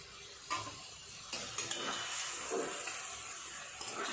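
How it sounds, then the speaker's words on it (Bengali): Bombay duck (lote fish) frying in a pan, with a steady watery sizzle broken by several scraping stirs and light clatters of a spatula against the pan. "তো আর এইভাবে নাড়াচাড়া করে আস্তে আস্তে ভাজা করে নেব।"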